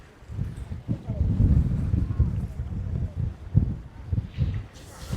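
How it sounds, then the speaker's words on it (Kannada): Strong wind gusts at a beach during a boat ride and buffets the microphone with heavy, uneven low rumbles that swell and fade. Faint voices may be mixed in. "ಗಾಳಿ ಸಕ್ಕತ್ತಾಗಿ ಹೊಡಿತಾ ಇದೆ."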